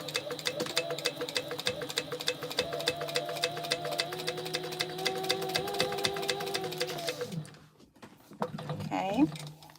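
A sewing machine runs steadily while stitching down a gusset seam on a pouch, giving off a fast mechanical whir with a rhythmic clatter before stopping near the end. A voice speaks briefly over it.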